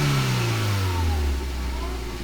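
A car with too much fuel entering its combustion chamber, pouring black smoke from the exhaust, revs loudly up close, its engine pitch sliding downward as it settles.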